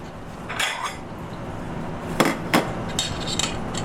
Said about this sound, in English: I like putting a little bit of sauce on the bottom of the plate. Just like that. And just move your spoon across.